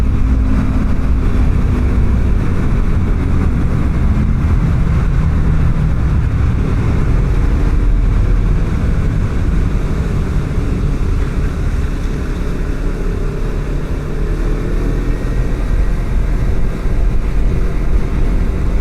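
A deep, continuous engine rumble from several heavy motorcycles idling or cruising nearby on a mountain road in Taroko Gorge, Taiwan, loud and unbroken.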